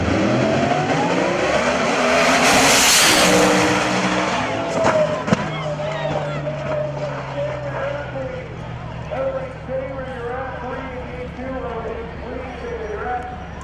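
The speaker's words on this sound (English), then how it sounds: "Watch as this drag racing car lifts off after a rather fast start and flying through the air." A drag racing car launches hard off the line and goes airborne in a crash at a drag strip, a loud roaring engine burst fading quickly, with a commentator speaking over the track noise.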